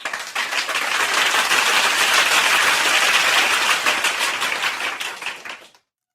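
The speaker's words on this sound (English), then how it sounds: "So, chat, give me a round of applause." Dense round of applause from a crowd, steady and loud from the start, lasting about five and a half seconds before cutting off abruptly.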